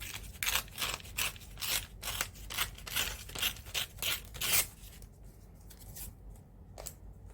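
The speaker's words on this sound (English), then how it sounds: "once again I need to tear pieces" Paper is torn by hand into pieces for a mixed media art journal collage, heard as a rapid series of close, crisp rips and scrapes that grow sparser near the end.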